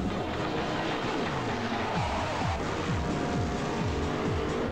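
Engine noise from the Test Drive 6 racing video game in a TV advert: continuous revving with repeated upward gear-shift sweeps, dense and steady throughout.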